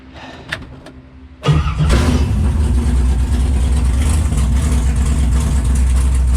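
A car engine cranks and catches after a carburetor overhaul: a few faint clicks, then a sudden loud start settling into a steady, rough running roar close by.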